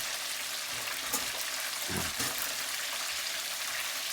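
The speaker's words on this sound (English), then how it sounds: "I'm just going to sort of fry them up on this side for a minute or 2" Breaded pork schnitzel sizzles in butter in a non-stick pan, a steady hissing crackle with a brief soft clatter of movement midway.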